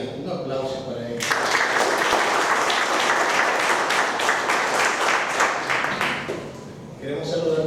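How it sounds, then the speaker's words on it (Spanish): An audience at a Spanish-language book presentation breaks into sustained applause right after a voice speaks, dense clapping holding loud for about five seconds before tapering off. "Un aplauso para ella."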